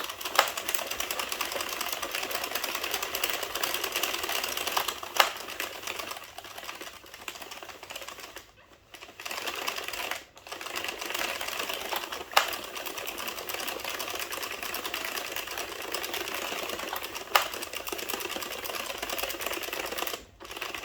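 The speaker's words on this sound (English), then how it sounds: "instead of just hearing the clunking of my knitting machine" A home knitting machine clatters steadily while knitting a navy blue, yellow, white and purple beanie, a dense, continuous mechanical clunking with brief dips near the middle and no talking.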